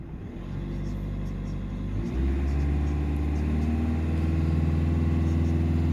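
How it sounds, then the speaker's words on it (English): Citroen Berlingo 1.5 HDi diesel engine idling up to held revs, a steady close low drone that rises in pitch and loudness after a couple of seconds and then stays even. "So we're just holding the revs up."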